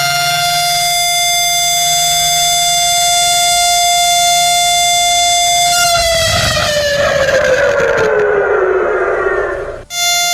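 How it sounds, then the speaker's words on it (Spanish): A loud civil defense siren wails steadily over Tel Aviv at dawn, holding a long sustained tone before sliding downward as it winds down, alone with no talk. "a las 6:29 de la mañana se escucharon esas sirenas que recordaban el momento en que comenzó el ataque"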